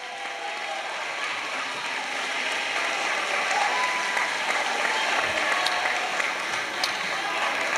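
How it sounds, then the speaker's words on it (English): A high school audience at a pep rally applauds in a dense, sustained wash of clapping that stays loud and even throughout. "Give yourselves a round of applause"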